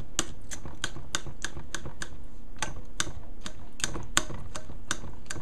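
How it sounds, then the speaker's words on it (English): A knife cuts up a roasted tomato for a choka salad, making a steady series of sharp, close taps at an even rhythm over a low background hum. "I will use a knife a little, and I will cut it up like, you know,"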